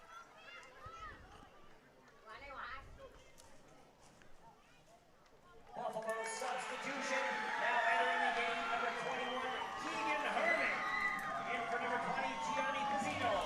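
Crowd at an NPSL soccer match between the Buffalo Stallions and Erie Commodores breaks into loud applause and cheering for a substitution, swelling suddenly and holding steady after a stretch of quieter commentary, with voices talking over it.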